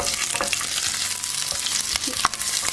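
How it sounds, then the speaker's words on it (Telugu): Dried red chillies fry in hot oil for an amla and green chilli chutney, a steady crackling sizzle with occasional stirring scrapes, close and fairly loud with no voices. "దీనిలో ఇప్పుడు మనం కొంచెం ఎండుమిరపకాయలు కూడా వేసుకుందాం."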